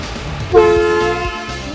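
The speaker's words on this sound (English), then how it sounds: "You guys want to see what an air horn sounds like?" A single loud, blaring ambulance air horn blast with a strong tonal drone, sounding close and sustained for over a second after a brief rumble.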